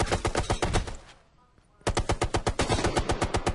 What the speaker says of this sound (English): The issue with light machine guns and big heavy caliber guns is always that you can be suppressed